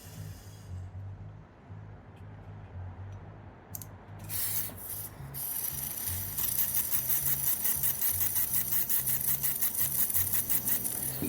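Cleaned fuel injectors from an Infiniti Q45 spray in a run of rapid, hissing pulses that come in after a few short bursts, all over a steady low mechanical hum.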